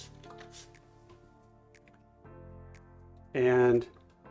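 A spray bottle mists water onto Dixie Belle Terra Clay Paint in one short, close hissing burst near the end, following quiet talking.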